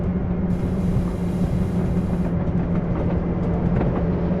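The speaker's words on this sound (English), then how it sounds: "Another moving train." Steady low rumble of a passing train in a train simulator video game, with rhythmic clickety-clack, continuous and fairly close, with no voices.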